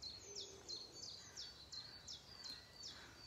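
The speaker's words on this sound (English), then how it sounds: "Hear the bird song." Birds sing outdoors on a quiet morning near a church, a repeated series of bright, high chirping phrases roughly every half second, faint and fairly distant over soft background noise, with no talk.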